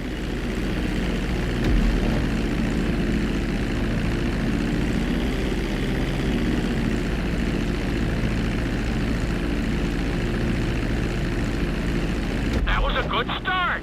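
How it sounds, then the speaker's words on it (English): Propeller airplane in GTA 5 flight school droning steadily and loud throughout, a constant engine hum that stays close, with a brief tonal game sound near the end. "Congratulations, pilot! You are now airborne."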